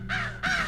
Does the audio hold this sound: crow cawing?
yes